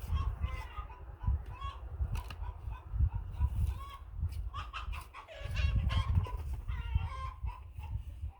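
Several hens cluck and squawk in bursts inside a hen house over a low, steady rumble, with busy overlapping calls rising and falling across the stretch.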